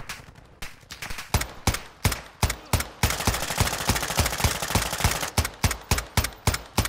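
Rapid bursts of Warzone 2.0 video game gunfire crack loudly, single shots at first, then a sustained automatic volley, then more spaced shots.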